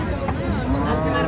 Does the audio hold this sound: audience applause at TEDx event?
no